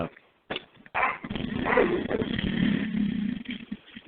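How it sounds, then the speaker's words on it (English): A small motorcycle starts up and settles into a steady, throaty idle at moderate distance, running continuously after a couple of short opening bursts. "that's my buddy starting up this little motorcycle here"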